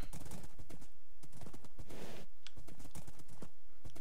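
Horse hooves clop in a steady rhythm as a Minecraft horse is ridden through rain, the clatter fairly close and continuous alongside a faint whinny.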